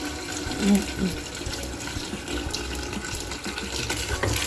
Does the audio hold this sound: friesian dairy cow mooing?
no